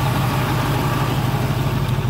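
A 1965 Ford Mustang V8 coupe idles close by with a steady, low rumble and even pulsing throughout, no voices over it.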